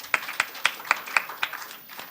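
A small audience claps for a presenting team at a nanoscience summer institute final presentation, about nine sharp, evenly spaced claps that fade out over two seconds.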